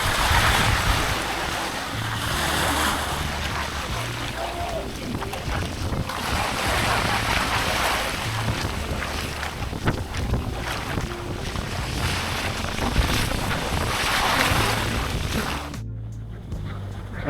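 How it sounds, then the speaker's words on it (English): Strong wind roars over open water along a kayak trail near Caladesi Island, buffeting the microphone in a loud, continuous gusty rush with lapping waves beneath, then cutting off abruptly near the end. "This wind is crazy."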